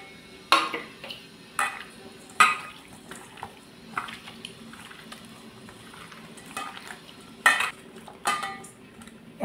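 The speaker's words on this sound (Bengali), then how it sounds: "এখন আমি হলুদ লবণ মাখিয়ে নিচ্ছি" Pabda fish being mixed by hand with turmeric and salt in a metal bowl, with wet squelching and intermittent clinks and taps against the dish, close and irregular, a few sharper knocks standing out.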